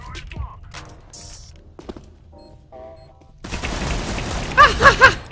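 Gunfire in CS:GO arrives as a dense burst of rapid shots toward the end, preceded by scattered clicks and game sounds, with voices heard in between.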